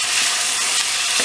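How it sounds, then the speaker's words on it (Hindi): Chopped tomatoes and onions with a little salt cooking in a pan over a medium flame, giving a dense, steady sizzle close by with a faint stir toward the end, no talking. "हमने इसको टमाटर और प्याज के सॉफ्ट हो जाने तक इसी तरह से पका लेना है।"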